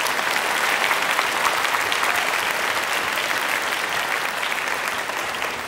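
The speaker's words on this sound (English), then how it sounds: "Let's give them a round of applause as well." Steady, dense applause from an audience at a Grade 8 school band spring concert, many hands clapping evenly and continuously at close range without pauses.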